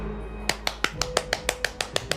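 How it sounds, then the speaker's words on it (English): Slow, evenly spaced hand claps, about ten sharp single claps in a steady rhythm, close and fairly quiet over a faint background hum. "I'm clapping for myself."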